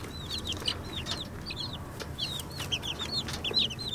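Chicks peep in quick high chirps over softer clucking from chickens in a backyard coop, a busy continuous chatter close by with no talking.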